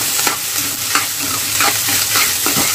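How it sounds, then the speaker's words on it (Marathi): Cooked rice being stir-fried in a pan for dal khichdi, giving a steady close sizzle with repeated scraping strokes of a spoon roughly every half second, alone without talk. "हे बघा, चांगलं याला पहिला फ्राय करून घेऊया"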